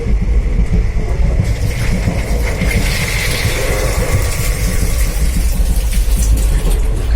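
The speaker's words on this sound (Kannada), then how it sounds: "ಒಳ್ಳೆ ರೀತಿಯಲ್ಲಿ ಸೌಂಡ್ ಉಂಟು ಟ್ರೈನ್ನ ಸೌಂಡ್ ಉಂಟು" A moving passenger train rumbles steadily from inside the carriage, with loud continuous low-frequency roar and rattling wheel noise throughout.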